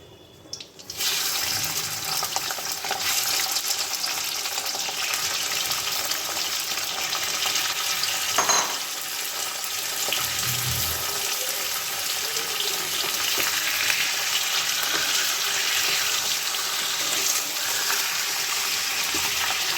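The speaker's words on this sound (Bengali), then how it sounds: "মাংসগুলো একটু হালকা করে আমি ভেজে নেব।" Chicken pieces fry in oil with dried red chillies for a Bengali chicken curry with potatoes, giving a steady, close, dense sizzle that runs unbroken for about twenty seconds with no talking.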